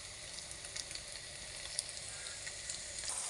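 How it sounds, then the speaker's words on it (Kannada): An egg fries in a hot pan with a continuous crackling sizzle, close and even, with a few small pops and no voices. "ಈಗ ನೋಡಿ ಮೊಟ್ಟೆ ಫ್ರೈ ಯಾವ ಥರ ಆಗಿದೆ ಅಂತ."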